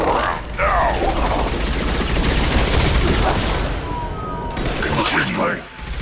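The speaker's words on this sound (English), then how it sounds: "Firing a high-impact shot" Sustained gunfire from Mass Effect Legendary Edition, a dense, loud crackling barrage of rapid shots that runs almost the whole time, with brief pauses and some game voice chatter mixed in.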